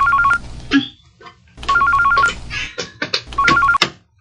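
A telephone rings in two-tone electronic bursts, three trains in about four seconds, close and fairly loud, with short gaps between them and a brief click or knock in the pause.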